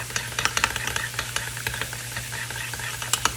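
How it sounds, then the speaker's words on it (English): Cheesesteak filling seasoned with salt and pepper is stirred in a hot pan, with quick, irregular scraping and clicking strokes over a steady low sizzle, close and moderately loud. "And give it a good stir."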